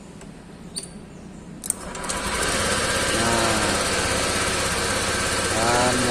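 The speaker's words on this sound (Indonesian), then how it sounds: "dan motor pun menyala normal kembali." A Honda Vario 150 scooter engine cranks with a short starter whir and catches, then idles steadily and close by, with a brief word spoken just before it starts.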